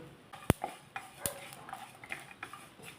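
A spoon stirs coriander seeds, coconut and white sesame seeds roasting in a dry pan for a spicy brinjal masala, quiet scraping with two sharp metallic clinks and softer rustling taps.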